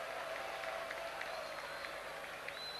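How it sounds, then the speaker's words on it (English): Football crowd at The Den applauding Millwall player Jimmy Carter during a 1988-89 match against Middlesbrough, a faint, distant wash of clapping and crowd noise running steadily throughout. "But the applause for this man,"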